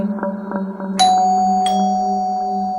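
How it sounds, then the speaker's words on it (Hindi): A two-tone ding-dong doorbell chime rings out once, clear and close, its notes lingering and fading over a quiet low hum. "तभी डोरबेल बजी।"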